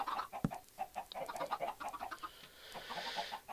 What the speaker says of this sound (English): we fed the chickens